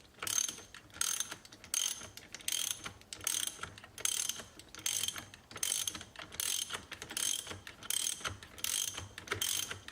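A ratchet tightens down a 2020-up Chevrolet Corvette C8 carbon fiber steering wheel, about a dozen quick bursts of clicking in a steady rhythm, close and crisp, with no talk.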